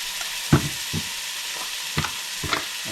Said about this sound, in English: I'm going to add my garlic paste, a teaspoon of garlic paste,